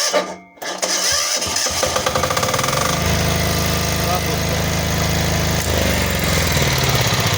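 VitalsWP 6.5-3de diesel generator, new, started warm without the decompressor: a brief cranking burst after a short gap, then the engine catches into a loud, steady knocking diesel chug that runs on evenly to the end.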